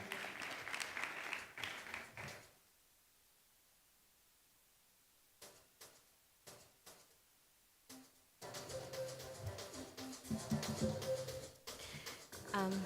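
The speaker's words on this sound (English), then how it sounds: "Let's clap for Amaya as she comes on stage." Audience applause for a performer walking on stage at a Kenyan diplomatic dialogue event, a steady clapping burst at the start, a quiet pause with scattered claps, then a fuller round of applause near the end.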